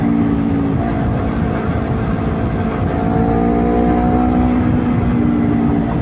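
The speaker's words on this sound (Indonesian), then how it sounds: "Kita coba gaspol. Kok 130 atau 125 kayak tadi tuh gampang banget cuy, CBR sumpah." Honda CBR250RR 249 cc sport motorcycle at full throttle, a loud, steady high-revving engine drone with rising pitch, close and continuous with no talking.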